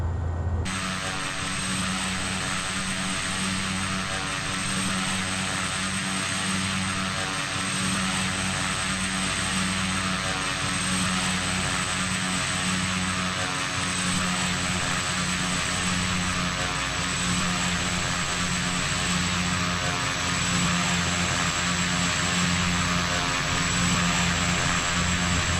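Pilatus PC-12 single turboprop engine in a flight simulator, a loud steady drone with a constant high whine and low propeller hum, running unchanged throughout.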